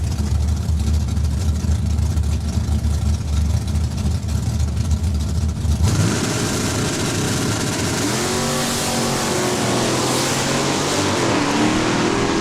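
A 1962 Plymouth Fury and a Plymouth Barracuda roar down a drag strip at Saskatchewan International Raceway, steady loud engine noise that jumps into a harsher, revving full-throttle blast halfway through.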